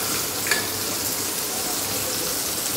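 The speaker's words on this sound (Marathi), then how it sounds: "हे बघा मच्छी फ्राय" Fish frying in oil, a steady, even sizzle with a faint crackle, constant and close, with only a brief clink near the start and no talk over it.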